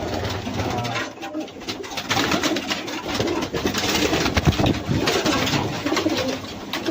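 Pigeons coo continuously close by, overlapping soft throaty calls over a steady background hum and rustling.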